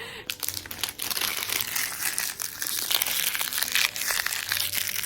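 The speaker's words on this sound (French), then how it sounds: "J'arrête avec ce bruit de papier." Continuous close-up crinkling and crumpling of paper, busy and scratchy throughout, with no pauses.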